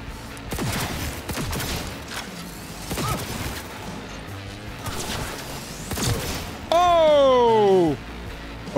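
Weapons fired in Cyberpunk 2077, a series of sharp shots and impacts spaced through the clip with a speaking voice over them, then a loud descending electronic whine near the end.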